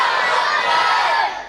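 A large crowd shouts back in unison to a Takbir slogan at a religious gathering: a loud, dense burst of many voices lasting about a second before it trails off.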